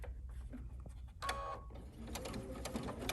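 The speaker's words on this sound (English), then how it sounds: "I'm going to stitch right across the end as well, closing up where I made that fabric turn in." Sewing machine stitching across the end of a fabric ribbon candy ornament, a quiet close whirring run that pauses briefly, then resumes with rapid mechanical clicking of the needle.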